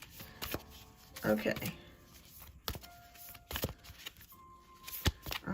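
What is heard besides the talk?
shuffling tarot cards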